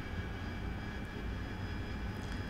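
Jet engine of an AV-8B Harrier in DCS World, a steady broad roar with tonal whine held at constant loudness throughout, no talk.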